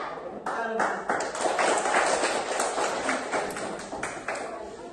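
Children in a classroom do a patterned clapping chant, sharp claps landing in rhythmic groups with shouted voices over them.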